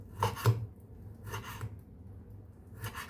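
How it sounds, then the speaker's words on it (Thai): A knife chops through meat on a board in three separate strokes, spaced about a second apart, close and fairly soft. "หั่นเป็นชิ้น"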